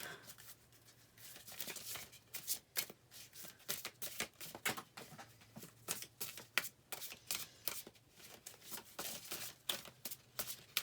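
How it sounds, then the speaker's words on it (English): Sacred Path cards being shuffled in repeated quick riffling bursts, a crisp papery fluttering that comes in rapid clustered flicks over several seconds, close and fairly quiet with no voices. "They seem to have not the easiest cards to shuffle."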